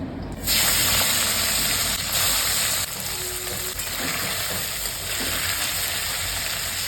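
Small puti and morola fish sizzle steadily in hot oil in a pan, a loud continuous frying hiss close by with faint stirring clinks.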